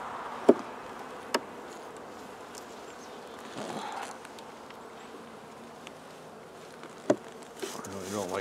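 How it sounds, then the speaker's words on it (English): A soft, steady hum of honeybees buzzing nearby in an opened hive box, with a few sharp clicks and knocks scattered through it. "There are bees in here."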